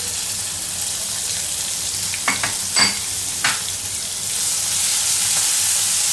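Finely chopped onion fries in an oil tempering with a gentle, continuous sizzle, punctuated by a few sharp clicks and scrapes of stirring near the middle. The hiss rises slightly louder toward the end.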